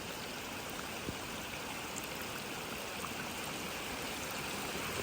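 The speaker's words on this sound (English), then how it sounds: "So we got some running water." Steady rushing stream of runoff after a big storm, water flowing continuously into a ditch, a broad even wash of sound close by with no voices.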